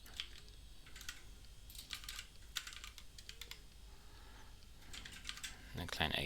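Bursts of keyboard typing, a few quick clusters of clicky keystrokes separated by pauses, fairly close and moderately loud over a low steady background hum, with no speech.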